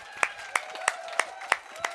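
Rhythmic, evenly spaced hand claps at a live show in honour of Norway's Culture Minister, six sharp claps at a steady beat, fairly close and clear against a quiet background.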